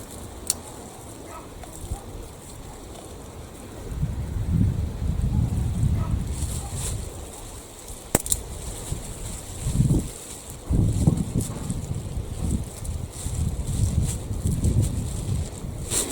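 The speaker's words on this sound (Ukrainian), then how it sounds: "хоч спасає те, що вітерець дує" A breeze blows through a vegetable garden on a hot day, coming in soft, low, gusty buffets that swell and ease under faint rustling, with no talk.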